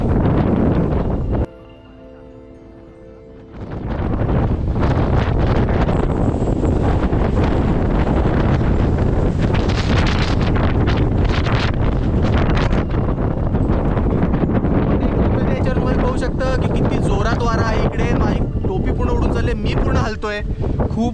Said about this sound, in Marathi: खूपच वारा आहे पाऊस थांबलेला आहे पण वारा असल्यामुळे आपण इथे द्रोण फ्लाय करू शकत नाही